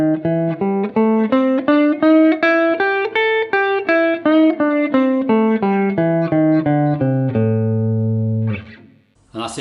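Guitar plays a string-bend scale exercise, a steady run of single notes with each one bent in pitch. The line climbs and then descends before settling on a long, sustained low note, followed by a brief burst of noise at the end.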